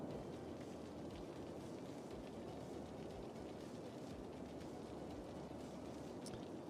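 Steady rain falls in the city-building game Cities: Skylines, a dense, even hiss of drops holding at one level from start to end with no voices over it.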